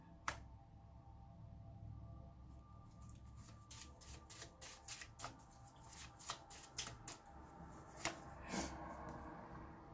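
Tarot cards are shuffled in a loose, messy way, giving a run of soft riffling flicks and slaps that grow busier toward the end over a quiet room hiss, with no talking.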